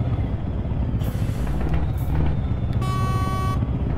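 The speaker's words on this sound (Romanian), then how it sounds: "Dar în schimb, sunetul la motor e top." A new truck's engine runs with a deep, steady low rumble, heard from the cab with the window opened, while a brief tonal horn or air-brake hiss cuts in near the end.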